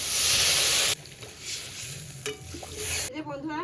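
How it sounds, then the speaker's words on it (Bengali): Helencha greens fry with salt and turmeric in a hot pan, a loud hissing sizzle at first that drops back to crackling and stirring scrapes, with a sharp burst of spatter near the end. "স্বাদ মতো লবণ অল্প একটু হলুদ গুঁড়ো দিয়ে এবার ভালো করে ভেজে নেব হেলামচি শাকটা"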